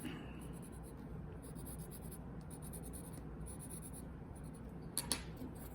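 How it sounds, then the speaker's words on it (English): Graphite pencil shading across paper in an art session, a steady soft scratchy rubbing that runs throughout, close and fairly quiet, with a brief sharper scrape near the end. "The idea being to add a little bit of dimension with that pencil."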